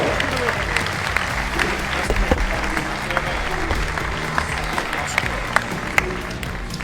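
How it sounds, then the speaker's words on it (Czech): An audience at an award ceremony gives steady, loud applause for a second-place winner, continuous clapping with a few sharper claps and murmurs in the crowd. "prosím potlesk, výborný výkon a druhé místo"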